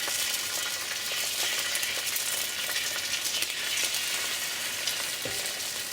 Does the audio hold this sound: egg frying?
yes